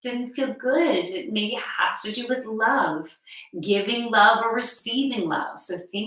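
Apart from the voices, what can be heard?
No everyday noise stands out behind the speech.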